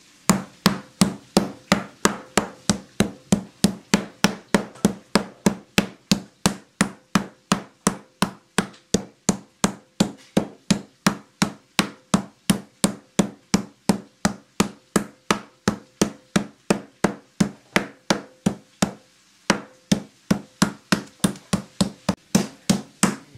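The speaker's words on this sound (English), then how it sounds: "taking a piece of raw beef and smacking the shit out of it" Raw beef under cling wrap being pounded with a meat mallet, a long run of steady, rapid, loud thuds at a fast even rhythm with one brief pause, close by and with no talk.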